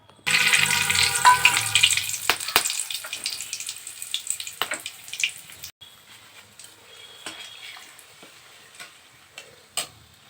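Whole garam masala spices and dried chillies hitting hot oil, a sharp bright sizzle that starts loud and gradually fades, dotted with small crackles and ticking pops, close up and without talking.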